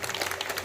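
An audience claps for a lawyer at a Hindi poetry or speech gathering, a brief, steady patter of applause at moderate distance with no voices.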